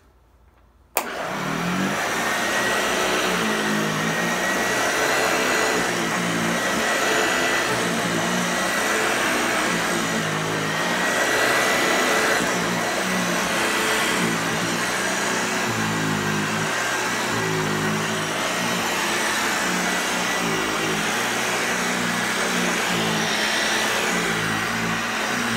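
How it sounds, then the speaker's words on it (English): A Hoover Lightweight Model 1340 vacuum cleaner switches on with a sharp click and then runs steadily and loudly up close, a continuous motor whine with a pulsing, slightly varying drone, no talking over it. "Here to use my Hoover Jr. Well, technically Hoover Lightweight, but still a Hoover Jr."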